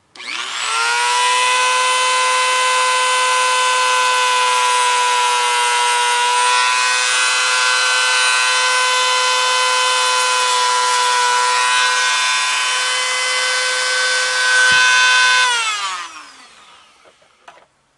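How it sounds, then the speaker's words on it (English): A Dremel rotary tool screams in one long, loud, steady high whine for about fifteen seconds, cutting the tip off a chainsaw pull-string on a Halloween chainsaw-arm prop, then spins down. "So I'm going to use the Dremel to cut that piece off."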